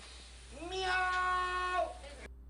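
A single drawn-out cat meow from the Blue Prince video game, clear and fairly close, rising and then falling over about a second and a half against a quiet background.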